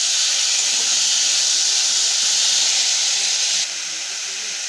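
Chopped tomatoes hit onions already fried until reddish, starting a loud, close, steady sizzle that drops to a softer hiss near the end.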